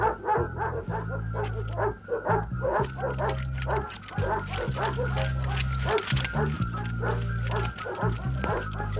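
Several dogs barking and yipping in rapid, overlapping bursts throughout, mixed with whimpers and shouting voices in an old French period film scene.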